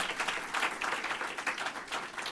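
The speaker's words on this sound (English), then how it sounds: "Round of applause to the author of this thing." A lecture audience claps for a book's author in a brief, moderately faint burst of many hands, even and continuous without talk.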